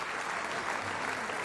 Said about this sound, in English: Jason Mannino gets the standing O from the crowd